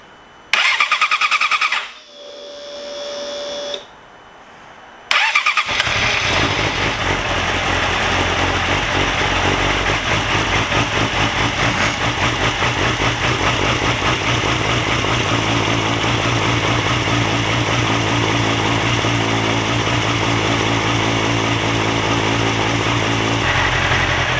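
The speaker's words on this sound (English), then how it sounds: "I'm going to start the bike up." A 2006 Yamaha YZF-R6 motorcycle, just fitted with a new fuel pump, cranks a few times, catches and settles into a steady, loud, close idle that holds to the end.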